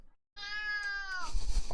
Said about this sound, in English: I have to put my cat on the desk.